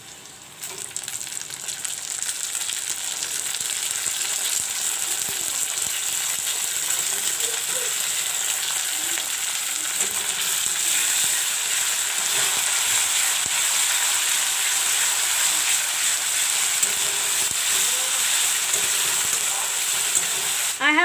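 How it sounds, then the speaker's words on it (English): Ground masalas fry in golden-brown onion paste for a channa dal pakodi curry, giving a steady, close hiss and sizzle that holds evenly throughout with only faint stirring beneath it. "Now I will put in the masalas."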